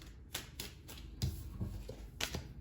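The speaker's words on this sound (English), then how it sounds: "I kept shuffling and I didn't start splitting the deck" A deck of tarot cards shuffled by hand, a series of soft, quick riffling taps and flicks at an uneven rhythm, close and quiet with no talking.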